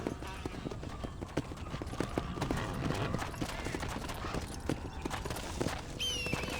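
Steady clip-clop of horse hooves trotting at a brisk, even rhythm in the video game Red Dead Redemption, with ambient outdoor sounds and a brief high whinny-like tone near the end.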